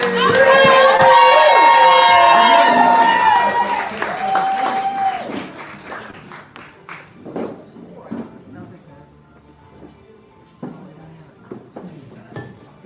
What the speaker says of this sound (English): All right, audience, it's your turn. Start clapping, start clapping